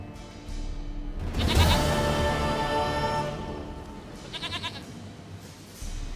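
Goat bleating in The Witcher 3: Wild Hunt, a loud, drawn-out wavering bleat that swells early and lingers, followed by a shorter second bleat over a steady game soundscape.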